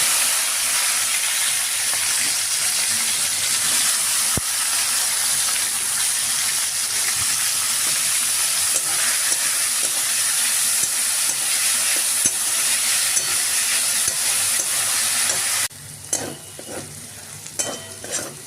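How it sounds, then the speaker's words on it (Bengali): Salted carrots and beans fry in hot oil, giving a loud, continuous dense sizzle with scattered scraping stirs. The sizzle drops suddenly near the end and then turns patchy. No one speaks. "এবার এই যে গাজর আর বিনসগুলোকে নুন মাখিয়ে রেখেছিলাম, এবার এগুলো একটু ভেজে নিই।"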